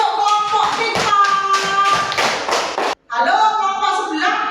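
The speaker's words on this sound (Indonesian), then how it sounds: "tepuk tangan untuk kelompok TikTok" Classmates clap for a student group in a classroom, a burst of scattered, uneven claps mixed with chatter and voices, briefly cut off near the end before resuming.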